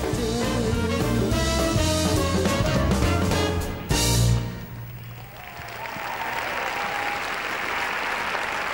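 A crowd applauds loudly after a dance performance at the 2001 European Championship semifinal and final round in Finland, steady clapping over music that cuts off midway, the applause continuing alone and slightly softer.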